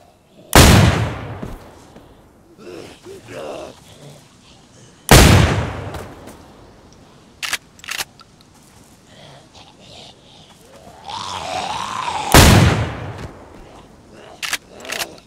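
Gunfire in the survival video game DayZ, fired in a village: three loud, booming shots several seconds apart with echoing tails, among quieter in-game noises.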